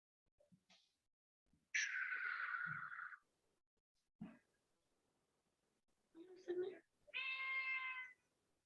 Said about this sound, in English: Heard somebody's kitty.